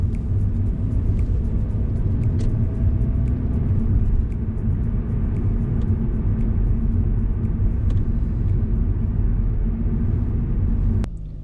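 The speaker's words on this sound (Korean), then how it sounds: "가속 페달 쭉 밟고 왼쪽 깜빡이 놓고 차로 하나 변경합니다." A car accelerates and changes lanes on a city road in Sejong during a driving lesson, heard from inside as a steady low engine and road rumble that dips briefly at the end, with no talk.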